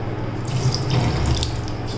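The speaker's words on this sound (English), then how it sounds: "ಈ ವಾಶ್ ಬೇಸಿನಲ್ಲಿ ನಿಮಗೆ only cold water is available, no hot water" Cold water runs steadily from the tap of a hotel washroom wash basin, a constant close-up splashing hiss with no pauses.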